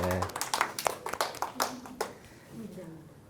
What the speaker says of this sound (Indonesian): Oke, tepuk tangan buat Wida